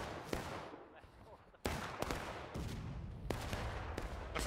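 Musket fire in the Civil War game War of Rights, a string of sharp cracking shots at irregular intervals, some close and loud, over a dense battlefield din.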